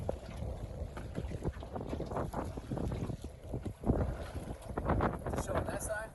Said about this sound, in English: Our problem is the wind.